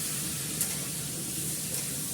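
Spiced masala sautés in hot oil in a pan until the oil separates, making a steady, close sizzle and crackle throughout, with a couple of slightly louder pops.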